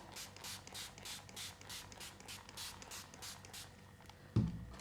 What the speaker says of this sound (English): I'm just going to spray it with a little bit of water like so